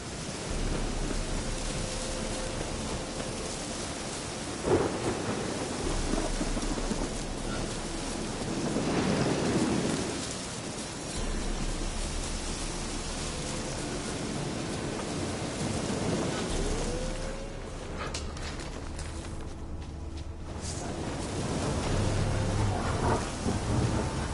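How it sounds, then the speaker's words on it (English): A thunderstorm rages in The Witcher 3 video game, with heavy rain hissing steadily and several deep rolls of thunder swelling and fading across the scene, loud and continuous with no speech. "The storm, damn it."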